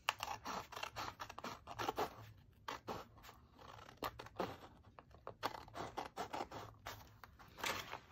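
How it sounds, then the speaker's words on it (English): Scissors snip repeatedly through a stiff paper file folder, close and crisp, in an uneven run of short cuts with brief pauses. "you're just gonna take your scissors and follow your file folder"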